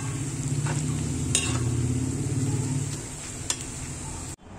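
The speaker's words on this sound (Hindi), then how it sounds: "जब तक हम अपनी प्याज को फ्राई कर लेंगे" Onions frying in a pan for chicken biryani, a steady close sizzle with occasional stirring scrapes, running continuously before cutting off abruptly near the end.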